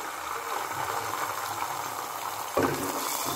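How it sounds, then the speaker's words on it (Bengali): Beaten eggs fry in hot oil in a wok with a steady crackling sizzle, close and even, and a brief louder spatter near the end. "তেলে দিয়ে এবার ডিম 2টোকে আমি একটু ভেজে নেব।"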